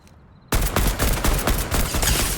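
Fortnite Battle Royale gunfire erupts suddenly and keeps up as a dense, loud, close string of rapid shots hitting enemies for about two seconds.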